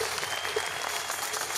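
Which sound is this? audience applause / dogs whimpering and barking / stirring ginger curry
audience applause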